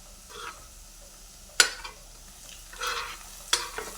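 Onion and tomato tipped into a hot pan of cumin and mustard seeds for bharda, giving a steady soft sizzle with two sharp scraping stirs and bursts of spattering, no voices.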